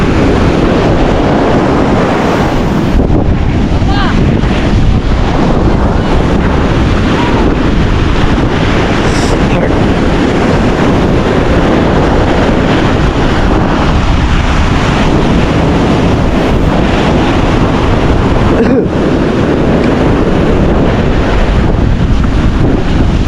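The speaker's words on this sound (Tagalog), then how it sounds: "malakas ang alon ha" Strong surf rolls onto a beach under steady, heavy wind buffeting the microphone, a continuous loud roar with no distinct breaks or voices.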